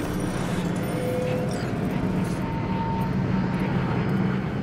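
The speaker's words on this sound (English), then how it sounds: "Drone's outside." A drone flies outside in the video game Cyberpunk: Phantom Liberty, making a constant, loud, engine-like drone that holds steady throughout with no talk over it.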